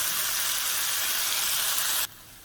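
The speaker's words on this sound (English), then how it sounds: "So now I'm going to add my onion. And I'm going to cook my onion for about 4 to 5 minutes." Onion frying in a pan for Mexican pepper steak, a loud, close, even hiss of sizzling that stops abruptly near the end, no talking.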